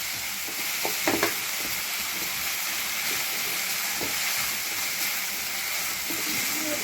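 Ginger garlic paste frying in hot oil in a home kitchen, a steady broadband sizzle running throughout with a few brief stirring clinks near the start.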